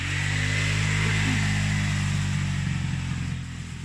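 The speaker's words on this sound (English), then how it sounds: "there's just a scooter coming past, so that'll be a bit loud" A motor scooter passes close by outdoors, a loud steady engine drone with strong low hum that holds for several seconds before easing slightly at the end; no talking.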